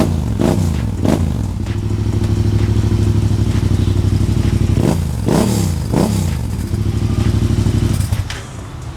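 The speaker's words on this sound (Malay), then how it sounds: "Ni namanya manual Valvetronic. Nak bising boleh, nak senyap boleh." A motorcycle idles and revs with its manual Valvetronic exhaust valve open, a loud close rumbling beat broken by several sharp throttle blips.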